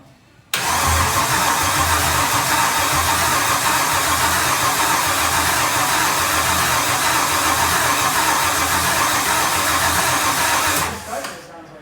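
A Gen V L83 5.3L V8 swapped into a Pontiac Solstice fires up for the first time, roaring loud and steady right after a brief crank, then cutting off near the end; voices speak around it.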